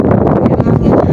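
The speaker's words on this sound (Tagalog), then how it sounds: "pasensya na kayo kasi mahangin talaga dito" Strong wind buffets a microphone outdoors at a fruit-picking spot in an Arabic country, a loud, continuous broadband rumble with gusty surges filling the whole short stretch.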